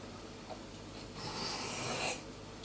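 Steady rasping strokes of a knife edge being sharpened to raise a burr on its upper edge, a continuous close scraping that swells louder midway through, with no talk.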